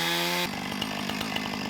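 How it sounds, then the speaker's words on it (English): A chainsaw runs at a homestead, first with a high steady whine, then dropping into a rougher, fluctuating buzz as it works, loud and close throughout. "These girls know the sound of a chainsaw means they get treats."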